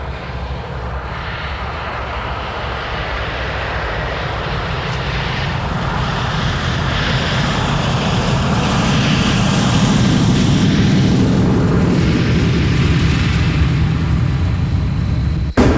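Heavy piston engines of a B-17 Flying Fortress bomber drone steadily and loudly, their roar swelling slightly as it goes on, with no talking.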